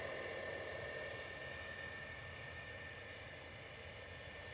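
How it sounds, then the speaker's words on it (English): An EasyJet Airbus A320-200 on approach into Manchester from Lisbon, at about 700 feet, produces a faint, steady engine drone with a tonal whine, ending in a short sharp click. "This is an EasyJet coming in from Lisbon. It's an A320-200."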